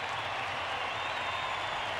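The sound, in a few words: baseball crowd cheering as the Braves take the field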